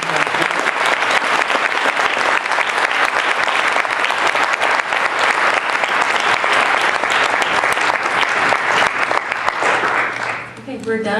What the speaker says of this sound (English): Let's give a big hand of applause.